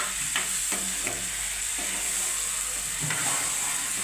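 Drumstick vegetable fries in a pan, a constant loud sizzle and hiss broken by several sharp scrapes of a spoon stirring the pieces, close and without talk.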